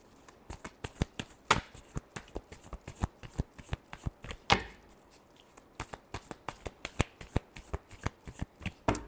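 Tarot cards shuffled close up in a dense run of crisp riffling clicks and slaps with brief pauses, heard alone without talk.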